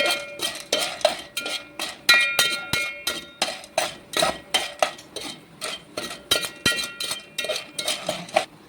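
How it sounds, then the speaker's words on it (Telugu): Popcorn kernels with salt and turmeric are stirred in a pot, giving a steady run of scraping clinks and metallic taps in a fast regular rhythm, close and fairly loud, with no voices. "ఇక్కడ నేను కలిపేసి మూత అయితే పెట్టాను."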